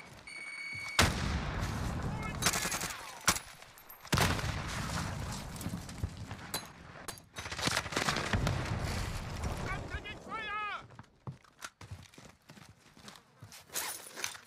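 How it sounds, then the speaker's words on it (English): Grenade blast in the Modern Warfare Warzone battle royale game, a heavy boom amid a busy mix of gunfire bursts and game effects, with a player talking over the action. "Throwing grenade."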